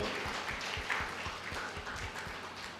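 An audience at a children's summer meditation camp in a pyramid hall gives scattered, moderately quiet clapping, the individual claps distinct and irregular over a few seconds.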